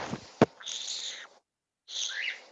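A pet bird lets out two drawn-out, harsh calls separated by a pause, close and fairly loud, with a sharp click and faint voice just before the first.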